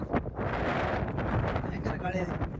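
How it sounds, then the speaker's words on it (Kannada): Strong wind buffets the microphone in a continuous roar, with a voice faintly audible beneath the gusts. "ತುಂಬ ಗಾಳಿ"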